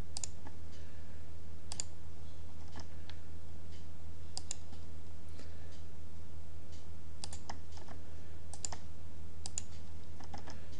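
Crisp, isolated mouse clicks while working in MS Paint, about a dozen sharp taps spaced irregularly over a steady low electrical hum, with no talking.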